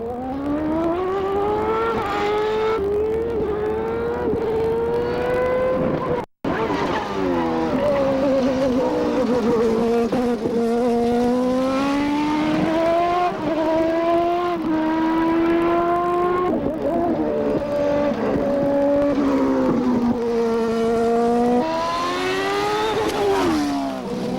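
An IndyCar with a manual gearbox laps a circuit during testing, its engine note loud and continuous, rising and falling in pitch through gear changes for over twenty seconds, with a brief break partway through.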